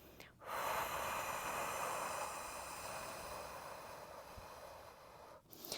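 A person exhales forcefully and at length during a Pilates ab exercise, a long breathy rush of air heard close with soft breath sounds at the start and end.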